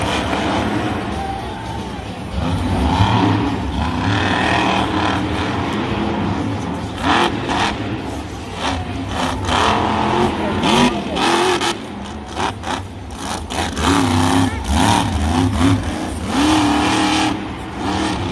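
Monster truck engines at a Monster Jam arena show in Denver roar and rev continuously at high volume, rising and falling as the trucks launch and catch air, with a crowd faintly present beneath.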